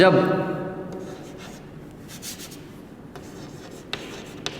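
Someone writes a physics definition on a board, producing soft scratchy strokes and taps after a short trailing voice at the start.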